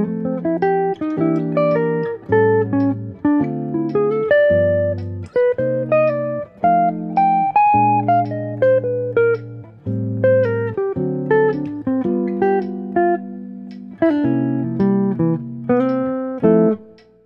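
A bebop etude over the first part of the A section of a tune, a continuous run of quick, articulated melodic notes over a sustained lower accompaniment, steady and prominent throughout with no talking.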